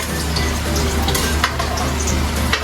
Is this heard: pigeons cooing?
no